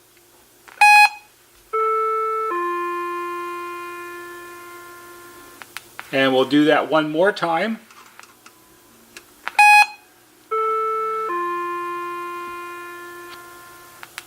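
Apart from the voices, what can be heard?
NuTone IM5000 intercom activation beep followed by chime module doorbell ring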